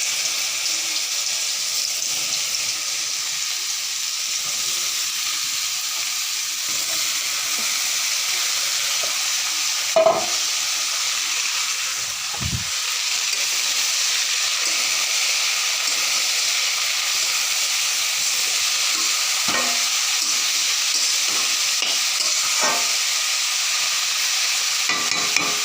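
Bottle gourd fries in leftover fish-frying oil with bay leaf and five-spice seeds, giving a steady, close, loud sizzle broken by occasional utensil scrapes and clinks as it is stirred, with no talking.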